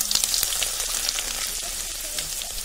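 Garlic, mustard seeds and cumin crackle in hot oil in a village kitchen, a close, loud sizzle with sharp pops and spits over a constant hiss.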